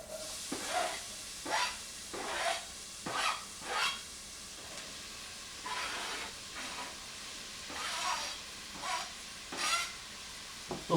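Minced onion cooking in foaming hot butter, with soft sizzling underneath and a series of separate scraping stirs at irregular intervals, close and moderately quiet, no voices.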